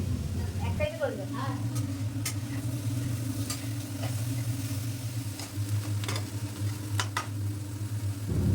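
Tomato with garlic paste frying and being stirred in a wok, a steady sizzle with scraping stirs over a constant low hum.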